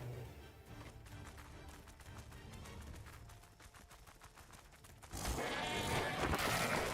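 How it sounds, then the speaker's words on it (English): Sheep bleating inside the survival game Ark on the Ragnarok map, layered over constant game ambience that swells louder near the end. "For a second, I thought that was the Minecraft sheep, because the noise"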